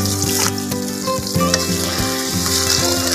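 Sugar syrup bubbles and sizzles in a pan alongside fried banana chips, a loud, busy crackle and hiss with scattered pops and stirring knocks, continuous throughout and without any talk.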